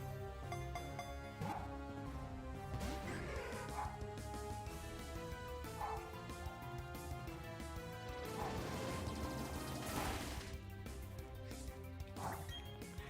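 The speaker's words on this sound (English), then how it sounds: "She's just barking to bark." A dog barks repeatedly, a series of short sharp yaps and woofs spread across the clip amid steady background music and game sounds, with no talking.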